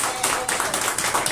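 Church congregation clapping together in a quick, rhythmic pattern of close, sharp claps, with voices audible beneath.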